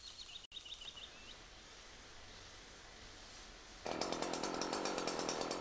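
A chainsaw working a cut through a standing tree trunk, a steady broadband roar that jumps louder near the end as the saw bites harder, with faint bird calls early on.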